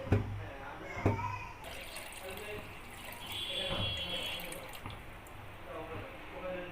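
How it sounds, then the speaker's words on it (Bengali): Hot water poured into a pot on a gas stove to boil elephant foot yam, a steady splashing rush with a few clanks and knocks, close by. "জলটা দিয়ে দিলাম।"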